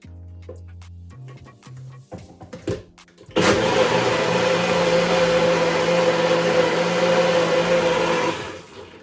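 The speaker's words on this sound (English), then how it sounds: "I'm gonna blend it out a little bit more." After a few clicks and knocks while it is set up, a blender starts blending birria chile paste, a loud steady whirring roar for about five seconds before winding down.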